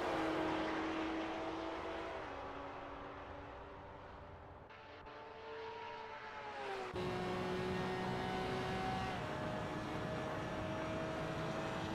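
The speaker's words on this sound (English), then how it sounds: "Porsche quick down the straight" A Porsche GT4 race car in a racing sim at Virginia International Raceway drones loudly down the straight, its engine note steady, dipping briefly as it shifts, then surging back strong and sustained.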